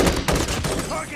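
M16 rifle fire in the mobile video game Call of Duty Mobile, heard as a rapid burst of sharp, loud shots lasting about a second.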